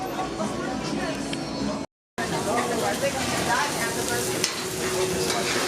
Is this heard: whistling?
no